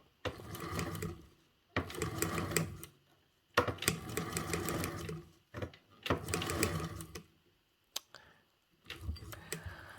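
A sewing machine stitches a flap in rapid bursts of chattering needle strokes, each run lasting a second or so and separated by short pauses, close and clear with no talking.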